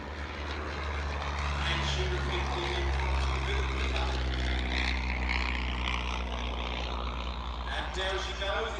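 Propeller airplane flying a low pass at an evening Shuttleworth airshow, a continuous deep engine drone with shifting overtones that swells gently over several seconds, while a commentator talks over it.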